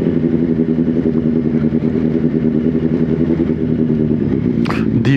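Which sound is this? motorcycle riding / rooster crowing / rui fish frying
motorcycle riding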